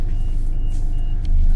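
A KAvZ 4235 suburban bus engine runs at a steady low idle rumble, loud and close from inside the cab, with faint clicks and a slight rise in the drone near the end.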